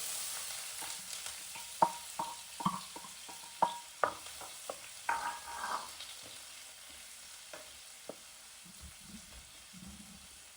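Onions are sautéed in oil: a quiet, continuous sizzle runs under repeated sharp scrapes and taps of a spoon stirring against the pan, and these ease off toward the end.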